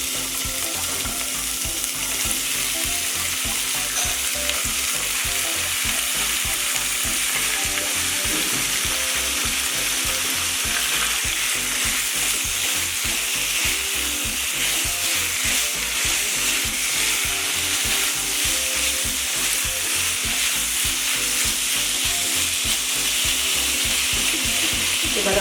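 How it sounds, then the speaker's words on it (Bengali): Chopped chicken pieces fry in two tablespoons of white oil, giving a loud, continuous close sizzle and crackle for the whole stretch, with no talk. "টুকরো করে রাখা চিকেনগুলোকে আমি দিয়ে দিচ্ছি।"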